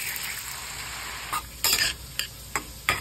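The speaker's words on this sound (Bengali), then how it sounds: "নুন ও হলুদ দিয়ে তেলের মধ্যে ভালো করে কষতে থাকবো" Bitter gourd pieces fry in oil with salt and turmeric, a continuous crackling sizzle broken by several sharp scrapes of a spatula stirring the pan, close and without any voices.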